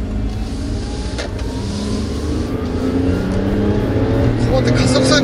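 Inside a Nissan Otti kei car as it accelerates, the engine note rising slowly under steady road noise while people in the car talk.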